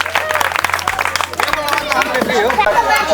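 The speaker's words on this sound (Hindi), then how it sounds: "जोरदार ताली मारिए तो इनको लिए।" An audience at a village football challenge claps loudly for a participant, the burst of applause mixed with crowd chatter and a voice talking over it.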